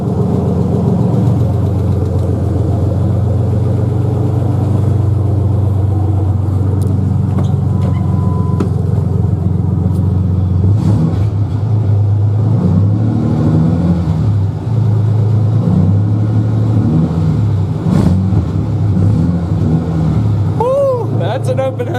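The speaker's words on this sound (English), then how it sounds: "That's an open headers Ford Ranger for you" A Ford Ranger 4.0 with open headers rumbles loudly at idle nearby, its throaty exhaust note steady with a few light blips of revs. Voices talk over the engine now and then.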